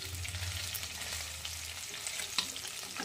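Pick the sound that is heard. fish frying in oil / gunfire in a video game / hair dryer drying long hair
fish frying in oil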